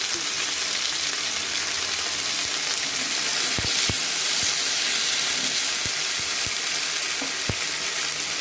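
Ginger paste sizzles in hot oil alongside fried potatoes for a rui fish curry with green banana: a steady, loud, hissing crackle persists throughout, broken by a few sharp pops and spatters.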